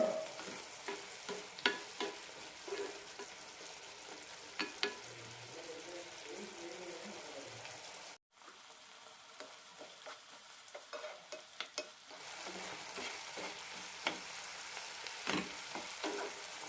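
Ridge gourd curry cooks in a pan with a soft, continuous sizzle, stirred now and then with light scraping clicks, quiet and close, with a brief silent gap midway.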